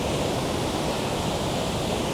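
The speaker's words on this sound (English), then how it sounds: "This is the first waterfall, officially." A waterfall swollen by heavy rain gives off a dense, steady roar that fills the whole sound evenly and never lets up, loud and close, with no voices.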